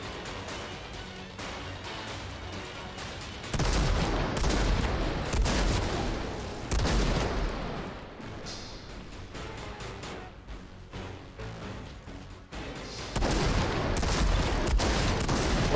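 Sustained bursts of gunfire from the video game Outriders on PC, loud, dense rapid shots with brief lulls and heavy crashing impacts.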